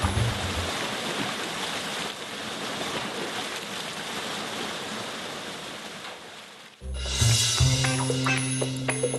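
Clean water pours straight down from above into a wide bath, making a steady, loud rushing wash for several seconds before an abrupt cut to different sounds with tonal ringing.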